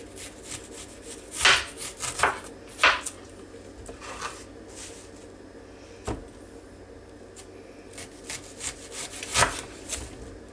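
A knife cuts through half an onion on a wooden board, with irregular crisp chops and a few sharp thuds between quieter scraping moments.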